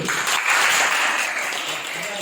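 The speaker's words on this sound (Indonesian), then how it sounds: "Tepuk tangan untuk kelompok 4 dulu." A class claps for a presenting student group, steady dense applause filling the whole moment, loud and close, with some voices mixed in.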